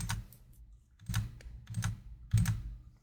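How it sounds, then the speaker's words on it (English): Knitting needles click in a quiet room, soft irregular clusters of small taps roughly every half second, close and faint with no talk. "knitting needles, clicking away in the dark"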